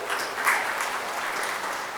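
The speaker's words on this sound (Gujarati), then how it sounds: "એના ભાગીદારો માટે કોઈ જોરદાર તાળીથી વધાવીએ" An audience at a talk on partnership breaks into steady, dense applause, a continuous wash of clapping at moderate loudness with no voices over it.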